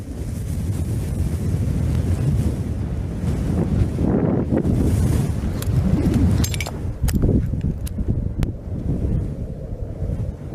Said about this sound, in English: The most abundant resource here is the wind.